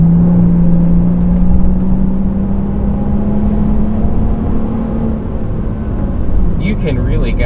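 A Volvo S60 T6 R Design accelerates smoothly from inside the cabin, a steady engine whir rising gradually in pitch under continuous talk, with a brief clatter near the end.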